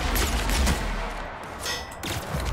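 Rapid gunfire from a heavy weapon in The Outer Worlds, a dense loud burst of repeated shots with booming low thumps running throughout, close and unbroken.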